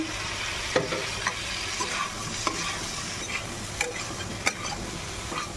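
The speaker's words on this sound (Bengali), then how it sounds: "মশলার সাথে আলু ও ঝিঙেটাকে ভালো করে নাড়াচাড়া করে নেবো" Potato and ridge gourd are stirred in a pan with cumin, chili and turmeric powder: a soft continuous sizzle broken by scraping strokes and occasional sharp clicks of the spoon against the pan.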